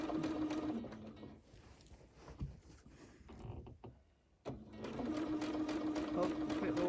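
A sewing machine stitches free motion quilting along a quilt border, its steady rapid needle hum running in long bursts that pause briefly in the middle before starting up again.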